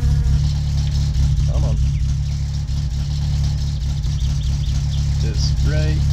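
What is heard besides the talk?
car engine running in My Summer Car video game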